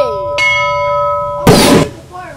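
A bell rings in two clear struck tones, close and loud, followed by a burst of noisy sound, with a voice briefly audible.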